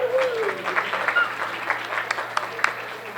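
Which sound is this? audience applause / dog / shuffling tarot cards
audience applause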